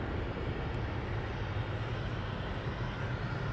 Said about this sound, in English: This time this A330 is seemingly taking off without any issues.